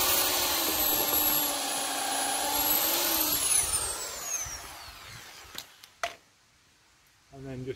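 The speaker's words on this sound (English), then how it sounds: "We just drill at a 45 degree angle." A small power drill bores pilot holes at an angle into wooden beams of a round house frame, a steady high whine for several seconds that winds down, followed by brief clicks and quiet.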